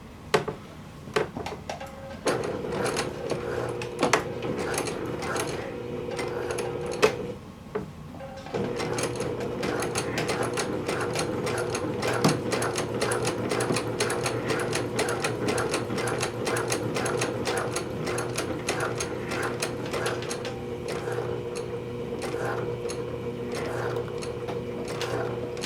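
A sewing machine stitches a dart on the back of pants in a steady, fast run of needle clatter, with one brief pause early on before the continuous whirring stitching resumes.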